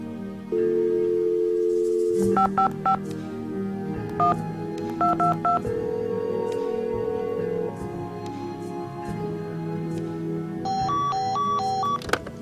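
Telephone keypad dialing in a Nancy Drew mystery video game: clusters of crisp two-tone beeps sounding in short bursts over a steady game music bed, with higher-pitched tone runs near the end.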